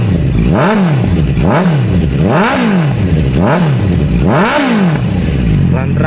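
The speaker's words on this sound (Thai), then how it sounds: "มาฟังเสียงตอนเร่งเครื่องกันบ้างดีกว่าครับผมเดี๋ยวขออนุญาตกดเบิ้ลเครื่องนิดนึงนะครับ" A 2016 Honda CB650F motorcycle engine revs up and drops back several times in a rhythmic pattern, loud and close, with a rough clattering idle between blips.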